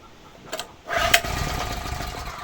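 A petrol generator engine starts up, being run on gasoline before a switch to gas: a couple of brief pull attempts, then the motor catches and settles into a steady, fairly close running drone.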